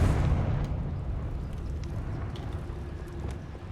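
A Confringo fire spell blast in Hogwarts Legacy, a heavy rumbling boom at the start that decays slowly into a low, lingering roar, with no voices.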